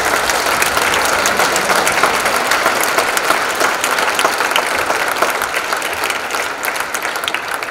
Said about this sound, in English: So perhaps we could give Jim a round of applause.